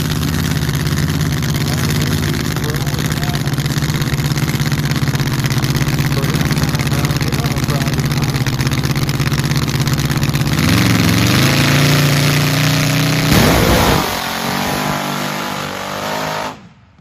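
A 1000-horsepower drag car's engine idles loud and steady after burnouts and passes, a deep continuous drone that drops off sharply near the end.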